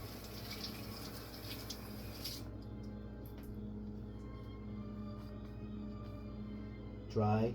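Tap water runs steadily over a kitchen knife being washed, a soft continuous hiss that abruptly thins partway through, ending in a short louder burst.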